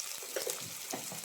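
Onions frying in a pan with salt, stirred through a soft steady sizzle with scraping strokes, brief and fairly quiet.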